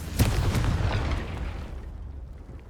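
A Confringo fire spell bursts in the Hogwarts Legacy video game: one deep explosive boom that rumbles and fades over a couple of seconds, loud and with no talking.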